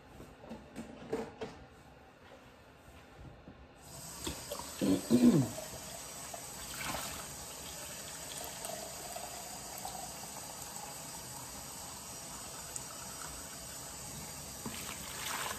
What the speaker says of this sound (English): let me get some water in here